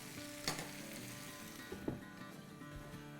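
Tandoori chicken sizzles and crackles in oil inside a covered pan on a stovetop, a steady close frying hiss broken by a few sharper pops and spatters, with no talking.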